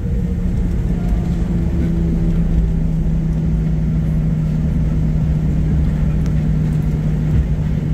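Southwest Boeing 737-800 rolling out after landing with reverse thrust retracted: a loud, steady cabin rumble with a low engine drone and whir holding evenly throughout, no talk.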